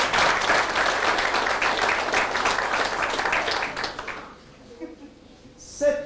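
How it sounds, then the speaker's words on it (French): Lecture-hall audience applauding: full, even clapping from the whole room for about four seconds that then thins out and fades, followed by quieter room noise and a few faint sounds. "Je voudrais que toute la salle applaudisse ceux qui ont levé la main."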